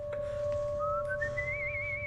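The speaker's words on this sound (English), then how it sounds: "Oh my gosh, I love the whistling." A clear, tuneful whistle from a movie, rising in pitch and then holding a wavering note, over a steady low hum and a faint background tone.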